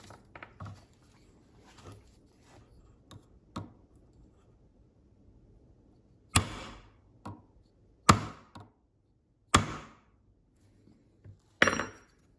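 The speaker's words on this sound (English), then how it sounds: "we're gonna do 3 strikes on this aluminum round bar for edge impact" A Civivi Brazen drop-point knife edge strikes an aluminum round bar, giving several sharp, loud metallic impacts spaced a second or two apart, with fainter taps between them in a quiet room.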